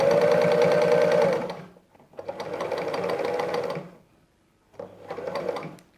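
A sewing machine stitches a seam through old denim jeans in three bursts, the first long and steady, then a pause, a second run, a short gap and a final shorter burst, close and clear.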